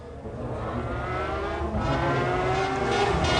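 A McLaren race car at Le Mans 1996 roars past with a rising, sustained engine note, loud and close, building steadily in intensity over a few seconds.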